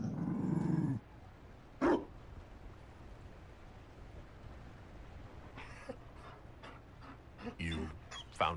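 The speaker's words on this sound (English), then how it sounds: "You found a dog? They don't breed Mabari in Olay." A Mabari war dog from the Dragon Age Inquisition video game gives short growls and barks, low and close, in brief bursts between stretches of game ambience while characters talk.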